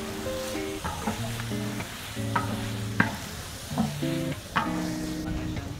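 Forty kilos of boiled beef with ginger are stirred in a large cauldron for a big communal cook, a heavy paddle scraping and knocking in repeated strokes over a low simmering sizzle, with tonal clanks from the metal pot.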